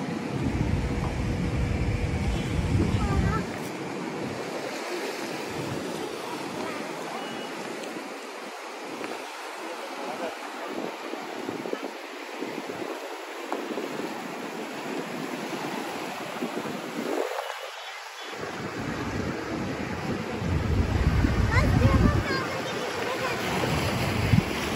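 Sea waves wash onto the shore in Mumbai with a continuous, rushing surge that swells and eases, heavily mixed with gusty wind buffeting the microphone and occasional voices.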